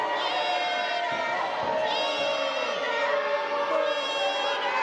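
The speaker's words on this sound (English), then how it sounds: "It's boos here from the PPW crowd." A PowerSlam wrestling crowd jeers loudly and continuously, a dense wash of booing and shouting voices with a few shrill individual calls rising above it.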